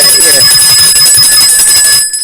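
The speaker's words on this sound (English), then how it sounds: "yeah, this small bell" A small gift hand bell rings steadily with bright, sustained tones for about two seconds, loud and close, before cutting off abruptly.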